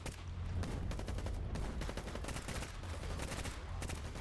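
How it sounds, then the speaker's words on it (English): Enemy gunfire from a tower in the video game S.T.A.L.K.E.R. GAMMA, sustained rapid bursts of automatic shots cracking in quick succession over a low rumble, fairly distant and continuous. "Those are the guys that are shooting at us right now."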